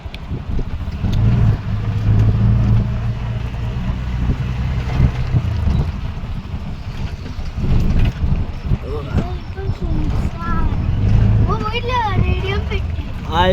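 Vehicles pass on the Mumbai-Goa highway at night, a continuous low rumble of traffic with occasional swells as cars go by, while people talk nearby.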